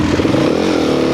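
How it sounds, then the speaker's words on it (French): A Yamaha WR450F dirt bike engine drones close by, a brief steady rumble with a rising rev. "Je ne suis pas certain que le 450 est la moto de choix."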